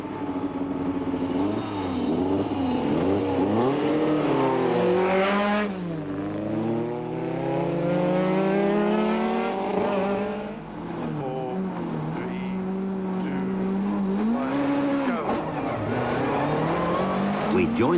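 A 1993 Mitsubishi Conquest rally car on the Mountain Trail event is started from a jumper battery and revs and drives off, its engine loud and close under steady talking throughout.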